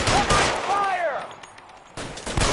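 Gunshots in the crime game L.A. Noire crack in loud bursts at the start and again near the end, with a quieter stretch between and a voice briefly calling out.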